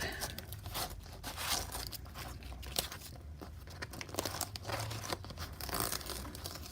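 Sticky tape peeled off a textured seascape painting, a crackling, crinkling rip that comes in close, uneven bursts over several seconds.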